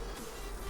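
Bees hum steadily in a vanilla Minecraft honey farm, a continuous close insect buzz with no talking.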